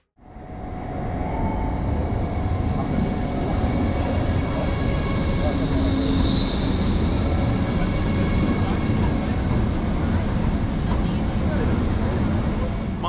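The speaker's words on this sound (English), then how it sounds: "here we can see my train arriving at Cologne main station" An ICE 3 Neo high-speed train pulls into Cologne main station with a loud, steady rumble and hum that builds in quickly and holds through the arrival, with faint voices underneath.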